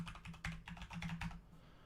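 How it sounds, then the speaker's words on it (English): Someone types briskly on a computer keyboard, entering a username and password. The keystrokes are quick and close, roughly a dozen soft clicks in under two seconds, with no talking. "So I'm going to go ahead and type that in right now."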